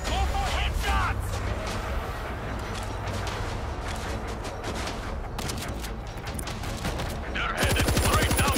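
Machine guns rattle in the World War Z Aftermath video game, a dense, continuous burst of rapid gunfire lasting several seconds beneath game voices, ending with a louder, sharply pulsed volley.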